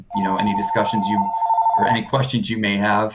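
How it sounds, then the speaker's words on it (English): A phone rings with a steady electronic tone during an online training session on insurance products, heard loudly under and between a person's ongoing speech. "sorry for my phone ringing there"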